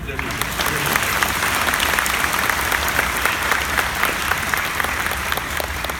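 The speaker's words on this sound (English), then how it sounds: "Oh, let's applaud for a moment." Crowd applause at an eighth-grade moving-up ceremony, dense sustained clapping from many hands filling the hall for several seconds, close and loud.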